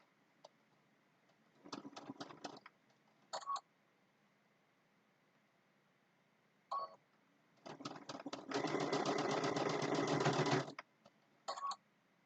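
A sewing machine stitches a quilt block for a Christmas table runner in short mechanical bursts, then one longer steady run of rapid needle clatter, with quiet gaps between.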